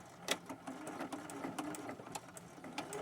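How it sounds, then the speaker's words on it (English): A sewing machine runs a continuous stitching line through fabric for an upcycled boho pixie skirt, a quiet rapid mechanical whir with regular ticking needle strokes throughout. "I'm going to try to sew right directly on that line again."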